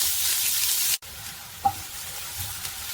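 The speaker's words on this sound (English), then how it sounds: "we're going to saute our onions for about 2 minutes" Chopped onions sauteing in hot oil, a bright steady sizzle close by with a brief cut in the middle, then a couple of light stirring knocks as the frying carries on.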